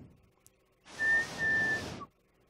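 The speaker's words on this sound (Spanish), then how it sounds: "Su abuela silbó." One breathy whistle held for about a second, close by, with nothing else around it.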